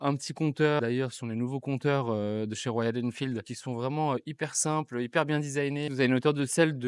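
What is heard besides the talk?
No distinct noise like a dog, phone or traffic.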